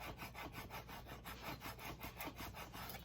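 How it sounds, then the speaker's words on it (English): A small tool rubbed back and forth across transfer tape on a personalized Christmas ornament, making steady, rhythmic scratchy strokes that repeat evenly throughout, close and alone with no talking. "Just rub directly across it here."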